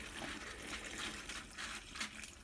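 Wort trickles gently through the grain bed during vorlauf in a home brewery, a faint, continuous watery run with soft splashing and no voices.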